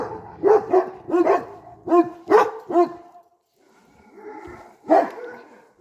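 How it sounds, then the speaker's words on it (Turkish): Several dogs bark and scuffle as they fight, loud close barks coming in quick clusters with whining and yipping between them, followed by a short lull and another bark. "Benim köpeklerim burada Gerçekten birbirlerine giriyorlar arkadaşlar."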